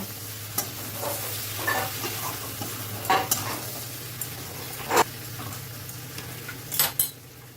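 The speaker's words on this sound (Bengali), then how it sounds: "আবারও একটু নাড়াচাড়া করে দিচ্ছি।" Vegetables sizzle steadily in a hot pan while a spoon stirs them, adding intermittent scraping and clinking strokes over the constant frying hiss.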